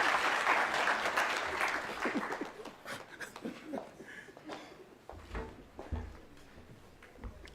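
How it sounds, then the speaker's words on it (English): A crowd at a university commemoration event in Nairobi, Kenya claps loudly at first, the applause gradually thinning and fading, with a few scattered claps and light laughter near the end. "Can we clap for him?"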